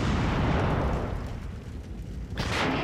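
A high-explosive tank shell detonates in World of Tanks, a heavy broadband blast rumbling through most of the moment, then a second sharper burst of noise near the end, with no voices.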